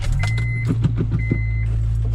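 Honda Acura RSX with an upgraded shifter driving on a test run, a steady engine drone close inside the cabin with a thin whine and a few soft knocks and bumps.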